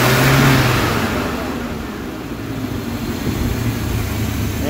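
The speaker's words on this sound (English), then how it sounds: "tap the throttle one time." A 1974 Chevy C30 custom wrecker that sat for years, its engine roaring loudly on a throttle tap and then settling into a rough steady idle, close and alone.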